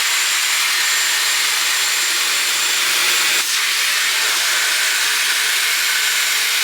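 A hair dryer with a straightening attachment blows air as a steady, loud broadband whoosh, with a brief bump near the middle but otherwise unbroken.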